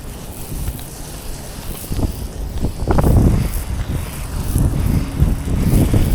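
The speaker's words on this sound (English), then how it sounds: "It's so windy today." Strong gusts buffet the microphone outdoors during roof cleaning, low rumbling bursts that build and swell irregularly, loud and close.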